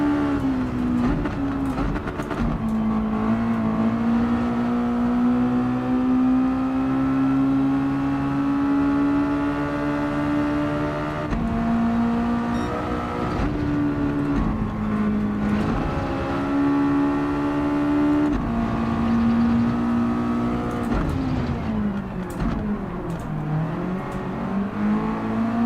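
A race car engine in Gran Turismo 7 drones loudly and steadily, holding high revs with slight rises and dips in pitch, a dense buzzing whine that carries without any voices.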